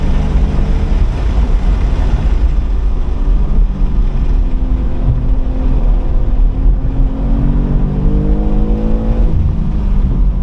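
A 2023 BMW M2 (G87) accelerating hard in fifth gear on a race track, its engine a loud, continuous, close roar that climbs steadily in pitch throughout.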